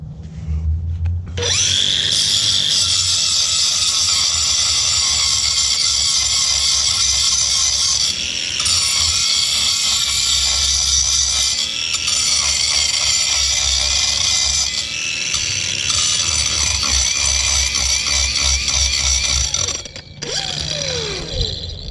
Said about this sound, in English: I'm taking the aluminum carving blade, and we're just going to knock these things off right here